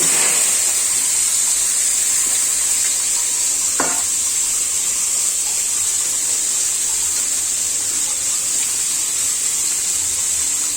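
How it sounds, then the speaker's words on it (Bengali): Chopped onions fry in a hot pan with a steady, even sizzle and hiss. One brief clink of a utensil comes partway through, and no one speaks. "আমি এখন এই যে কেটে রাখা পেঁয়াজগুলো দিয়ে দিচ্ছি"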